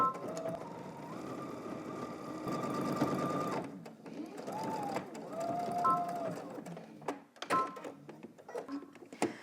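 Close sewing machine running in bursts while top stitching a flap on a Simplicity #9754 garment, a steady motor whine with changing pitch, brief pauses and restarts, and small clicks and knocks between runs.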